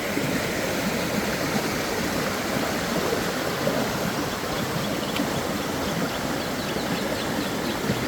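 Fast-flowing stream swollen by rain after a downpour, rushing loudly and steadily as a dense, continuous roar of churning water close by, with no talk over it.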